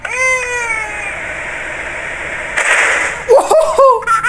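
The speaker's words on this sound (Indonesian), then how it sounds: "Oh, si kucing di sana, guys." A cat meows in the horror video game The Baby in Yellow: a few short, rising-and-falling meows near the end, close and clear over softer game tones and effects, with no talking.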